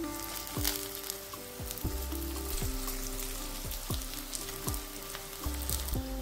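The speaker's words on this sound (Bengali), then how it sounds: "এবার এটা ভাজা করে নেব" Water lily fritters fry in oil with a soft, continuous sizzle. Faint scraping stir or turn sounds recur roughly every second, close by and quiet, with no speech.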